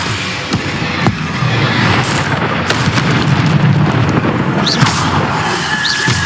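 Hogwarts Legacy combat with explosive spells going off, several heavy booms and sharp bursts scattered across a loud, busy layer of game effects, no voices.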